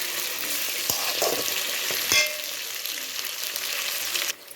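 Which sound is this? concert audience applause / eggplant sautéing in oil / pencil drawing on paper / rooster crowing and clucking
eggplant sautéing in oil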